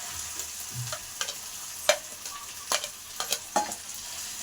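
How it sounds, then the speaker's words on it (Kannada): Onions fry in a pan with a soft continuous sizzle, broken by repeated sharp scraping strokes as a ladle stirs them, alone without talk. "ಈರುಳ್ಳಿನ ನೀಟಾಗಿ ಫ್ರೈ ಮಾಡ್ಕೊಳ್ಳಿ."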